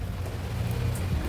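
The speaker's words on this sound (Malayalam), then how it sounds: "മഴ ചാറിനുണ്ടായി" Light drizzling rain outdoors around a home, a soft, even hiss that carries steadily through the whole moment with no voices.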